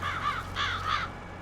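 A crow caws in the Farming Simulator 22 video game, three harsh, nasal calls in quick succession at moderate volume over a low steady background hum.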